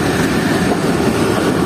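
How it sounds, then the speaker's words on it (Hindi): Tezgam passenger train running into Khairpur railway station at night, a loud, steady rumble of wheels and carriage noise filling the whole stretch with no pauses. "रात 2:40 में ट्रेन हमारी अप्रोच बना रही है खैरपुर रेलवे स्टेशन पर।"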